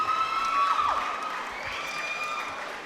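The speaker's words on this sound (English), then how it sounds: "give these 2 warriors a huge round of applause, please" A crowd at an Apex Combat Championship MMA event applauds and cheers the two fighters after the bout, a sustained wash of clapping and shouts that swells briefly and holds steady, heard from some distance.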